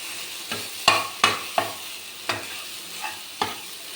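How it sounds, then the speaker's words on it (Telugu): Onion and chili paste fried in a pan for ridge gourd curry, with a steady sizzle broken by sharp scraping spatula strokes, about eight distinct stirs, close and fairly loud. "కారం కూడా ఫ్రై అయిపోయింది"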